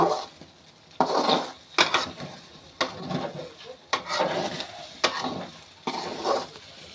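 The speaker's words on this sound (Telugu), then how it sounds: "మాడిపోకుండా నెమ్మదిగా కలపాలి" An egg fry is stirred slowly in a pan, a spatula scraping and knocking against the metal in a slow, irregular rhythm of about eight strokes over a soft background sizzle, close and fairly quiet.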